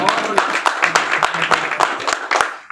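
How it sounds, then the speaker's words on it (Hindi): Audience applause rising for a Hindi comedy poet's stage show, dense and steady with sharp claps scattered through it, fading toward the end; a voice is faintly audible beneath it. "अक्षय कुमार के लिए जोरदार तालियां बजाएं भाई"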